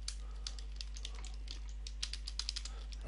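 Quick bursts of keystrokes on a computer keyboard while logging in to a Raspberry Pi, a dozen or so close, crisp taps in uneven rhythm over a steady low hum, no talking.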